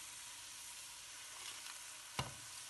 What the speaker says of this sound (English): when you smell the garlic, you add the meat, the diced meat.